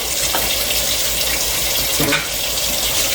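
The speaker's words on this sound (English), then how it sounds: "My sauce, let me rinse it out." Tap water runs steadily into a sauce container being rinsed, a loud continuous gush with small splashing shifts near the end.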